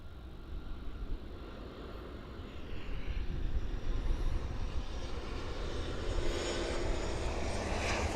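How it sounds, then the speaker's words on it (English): An American Airlines Boeing 737-800, arriving from Guatemala City, lands on runway 9 at Miami International Airport; its distant engine roar swells gradually into a broad, steady rumble. "arrive in on runway 9 is American Airlines flight 1182, arriving in from Guatemala City. It's a Boeing 737-800."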